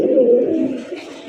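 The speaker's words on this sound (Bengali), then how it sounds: "এক একটা নরের যে ডাক, পুরো একদম অস্থির" A male red pigeon gives one loud, close, drawn-out coo that tails off, with no talk over it.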